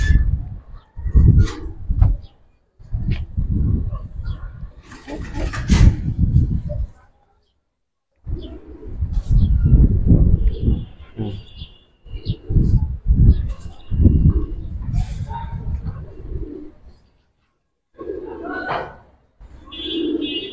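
Giribaz racing pigeons coo softly in a loft while someone talks over them in bursts, with brief chirps and rustling in the pauses.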